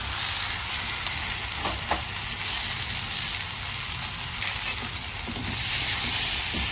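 Peas and sweet corn sizzle in a hot pan, a steady broadband frying hiss that holds evenly throughout, with a few faint stirring scrapes, close and fairly loud, no voices.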